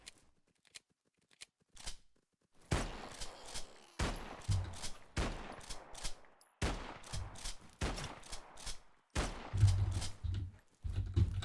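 Repeated shotgun blasts in an indie video game under development, a series of sharp, punchy shots spaced a second or so apart with short decaying tails, following a few faint clicks.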